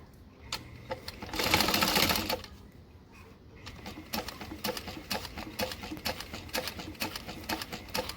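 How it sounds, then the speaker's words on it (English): A sewing machine stitches a seam with a 3/8-inch allowance at a number 3 stitch length, running in a loud continuous burst, then continuing in shorter rapid stitching runs with brief pauses. "sew with a 3/8 of an inch seam allowance"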